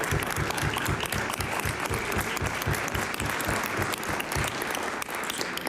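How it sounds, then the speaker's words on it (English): Members of the House of Assembly chamber applaud, a loud sustained round of clapping with a pronounced rhythmic beat of hands near the microphone, continuing unbroken. "Murray Ryan, would you please stand and accept the applause of the House?"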